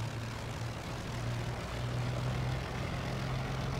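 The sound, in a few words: Spitfire MK I engine throttling up for takeoff, Microsoft Flight Simulator video game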